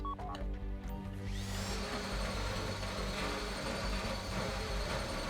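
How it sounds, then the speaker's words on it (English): A drill bores into a bank vault during a GTA Online heist, a loud steady mechanical whine that rises to full speed after about a second and keeps grinding alone. "Get out the drill."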